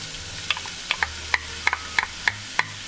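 Chopped onion frying in annatto oil gives a soft, steady sizzle, with regular light clicks from stirring against the pan at close range and no talking.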